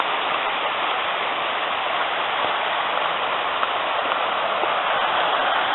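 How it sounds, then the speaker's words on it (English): A Lake District waterfall rushes in a constant, loud, broadband roar of falling water, close by and unbroken, with no voices. "Here's the waterfall"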